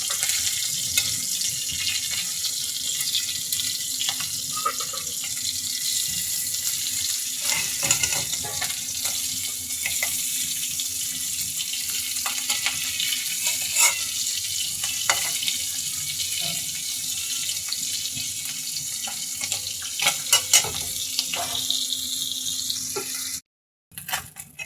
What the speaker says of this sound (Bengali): আমি সুন্দর করে মাছগুলোকে ভেজে নিব